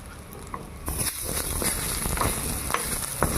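Dried salted fish frying in a pan, with a steady loud sizzle and scattered crackles and pops, close up and continuous.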